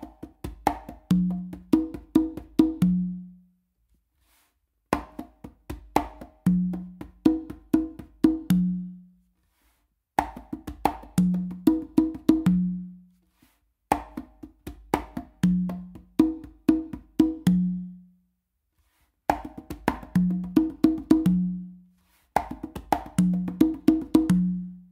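A full a caballo variation on congas repeats in six close phrases, each a galloping run of light ghost strokes and slaps that settles onto ringing open tumba tones, played alone with short gaps between phrases.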